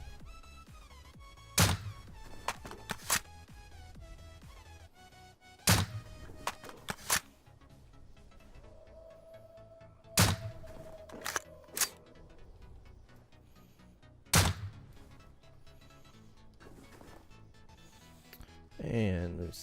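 Suppressed gunshots in the survival game Rust: a series of sharp, muffled thuds fired singly and in quick pairs at irregular intervals over a quiet ambient background.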